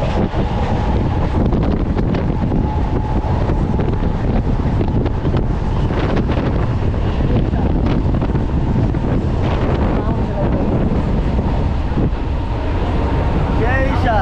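Inside a fast-moving Indian Railways train heading toward Sealdah station, a loud, steady roar of wheels and rushing wind fills the whole stretch with continuous rumble and no clear pauses.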